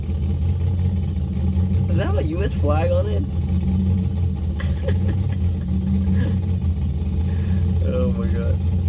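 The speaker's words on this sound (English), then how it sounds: "this is actually the car that's making the sound behind us" A car engine rumbles steadily nearby in a low continuous drone, idling with slight revving, while people talk over it outdoors.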